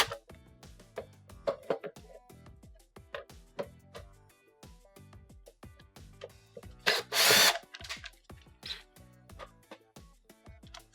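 Screws being driven out of a Frigidaire dishwasher console panel with a power drill, short whirring bursts and small clicks repeating irregularly, with one louder buzzing burst partway through; no speech.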